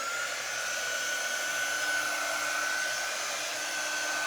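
A hair dryer blowing steadily on a craft project, a loud, close, unbroken whoosh with a constant motor whine throughout.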